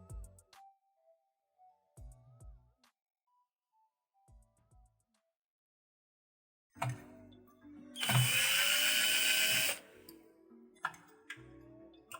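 Screws come out of a JBL Libra 250 PA amplifier under repair: several faint, sparse mechanical clicks and ticks, then a loud, close whirring burst lasting a couple of seconds, with no speech.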